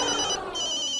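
A telephone rings with a bright electronic warble, one short burst that dips for a moment and then carries on, close and clear with no voices.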